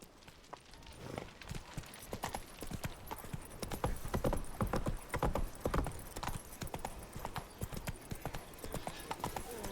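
Horse hooves trot in The Witcher 3, a steady fast clip-clop rhythm, fairly close and continuous, with a faint voice underneath.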